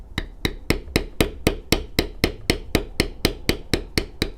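A leather tooling stamp is struck again and again on cased leather, about eighteen sharp, evenly spaced taps in quick rhythm, close and crisp, with no talk.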